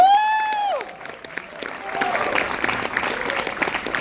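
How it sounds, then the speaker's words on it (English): Audience applause with some cheering at a New York premiere event for a crime drama series, building after a voice at the start and continuing steadily as a crowd claps over background talk. "You can clap it right away, all right?"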